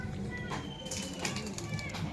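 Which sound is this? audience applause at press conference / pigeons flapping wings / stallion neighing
pigeons flapping wings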